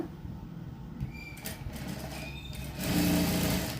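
A sewing machine stitches a blouse seam about half an inch wide, giving a steady low mechanical whir that swells louder near the end of the short run, with no talking.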